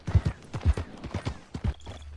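Horses in the Red Dead Redemption 2 video game walking on a street, hooves clip-clopping in an uneven, overlapping rhythm at close range, with no talk.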